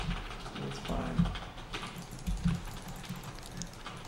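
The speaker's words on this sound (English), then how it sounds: "I got this very, very old keyboard that is very noisy" Typing on a very old, noisy computer keyboard, with steady close clacking keystrokes and a few heavier thumps, fairly quiet overall.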